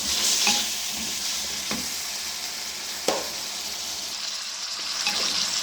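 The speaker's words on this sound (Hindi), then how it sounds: "ये अच्छी तरह भून रहे हैं।" Two large potatoes frying in a pan, a steady close sizzle with occasional scraping strokes of a spoon stirring them.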